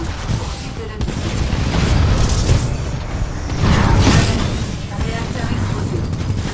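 A titan's reactor explodes during Titanfall combat, a loud rumbling boom that swells and rolls on amid dense gunfire and mechanical clatter, with continuous game noise throughout.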